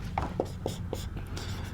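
Pen or marker writing a Sanskrit grammar example by hand, several short scratchy strokes in quick succession over a low steady background hum, close and moderately loud.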